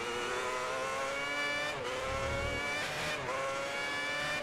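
Formula One race car in the F1 2010 video game, qualifying at Malaysia, accelerating with a loud continuous engine whine whose pitch sweeps up through gear changes, with a brief dip mid-clip before revving hard again.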